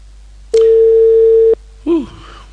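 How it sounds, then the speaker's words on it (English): A telephone rings on the line during a live radio call-in show: one long electronic tone of about a second, then a short warbling blip, loud and clear against a quiet background. "Okay, the phone is ringing."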